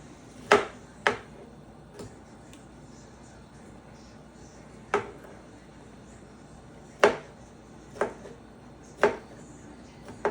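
A knife cuts pineapple into small tidbits on a board, with sparse, sharp single chops spaced irregularly over a quiet background.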